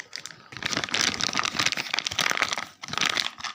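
A plastic bag is crumpled and wrapped up around its contents, giving loud dense crinkling in bursts with a short pause near the end, close up and alone.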